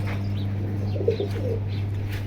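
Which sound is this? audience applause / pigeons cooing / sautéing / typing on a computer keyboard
pigeons cooing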